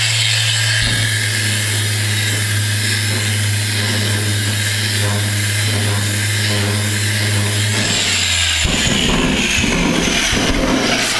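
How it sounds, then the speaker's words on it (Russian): A power sander works with P220 abrasive on a primed car body panel, a loud, continuous whirring hum with gritty abrasive hiss that shifts in tone near the end as the tool changes, close and steady, no talk. "Продолжаем шлифование абразивом 220."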